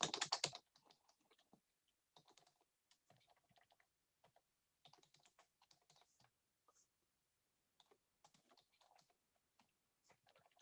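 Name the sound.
typing on a computer keyboard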